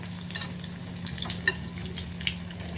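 Sabudana vada fry in hot oil with a soft, steady sizzle, and a few light clinks of a utensil sound as the vadas are flipped.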